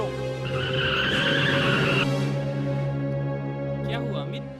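A car skids to a halt with a sustained tire squeal over engine noise, then the screech fades out, and a brief voice follows at the end.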